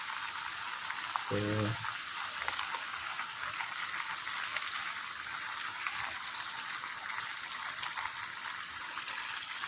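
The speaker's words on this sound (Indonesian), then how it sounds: "Nah di sini kita masukkan yaitu santan kelapa kental." Thick coconut milk, about 1.5 liters, being poured into a pot of beef tendon and jackfruit curry, a steady watery hiss and gush with a faint simmer underneath and a short spoken word.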